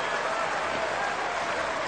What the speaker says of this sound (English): Gets the round of applause from Michael Gesserit.